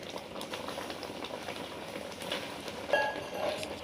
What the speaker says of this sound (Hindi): अब हम इन्हें 5 मिनट के लिए कुक करेंगे लो फ्लेम पे